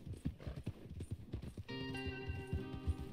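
Horse hooves clip-clopping at a steady walking gait in the video game Red Dead Redemption 2, close and quiet, joined midway by a sustained tonal musical drone.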